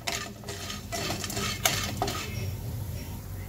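Finely chopped areca nut pieces are stirred and roasted in ghee in a pan, with soft scraping and clinking of a spoon against metal over a faint sizzle, close and brief.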